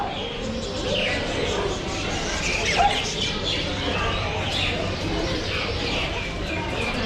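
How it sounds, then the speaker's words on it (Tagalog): Birds coo and squawk amid a noisy crowd at an animal market in Kuwait, with scattered chirps and calls over a steady background murmur. "Ganda ng mga ibon."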